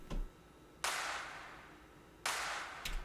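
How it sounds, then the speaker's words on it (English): Layered snare and clap hit in a Bitwig Studio electronic production, struck twice about a second and a half apart, each a bright, sharp crack with a long hissing tail, plus a faint tick before each. "the thing that really makes that snare big is this clap layer here"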